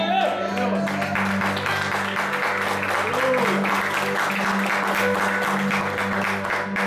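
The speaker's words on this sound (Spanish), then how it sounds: "¿Cuánto le dan palmas a Dios por él?" A church congregation claps together in praise of God, a dense continuous patter over a sustained musical hum, with voices mixed in.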